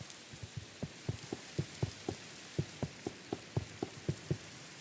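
Rain in a video game falls as a steady faint hiss, with a regular series of soft low thumps repeating roughly every quarter second.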